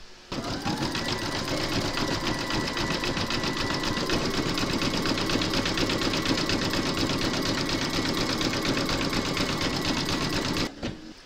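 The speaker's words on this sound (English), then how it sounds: "you're going to pop your hoop into your machine and stitch round number 39, and that's going to do the zigzagging and the satin stitching around the roof" An embroidery machine runs steadily, stitching zigzag and satin stitch around the roof piece of a gingerbread house design, a fast, even mechanical rattle that runs for about ten seconds before stopping.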